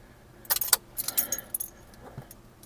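Keys on a ring jangling as the ignition key of a 2009 turbo Corolla is turned, a quick burst of bright metallic clinks close by, fading into a few lighter rattles.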